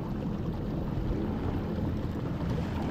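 A small ferry carrying motorcycles crosses a river between Sepang in Selangor and Lukut in Negeri Sembilan. A steady low engine rumble and water wash persist throughout, with wind buffeting the microphone.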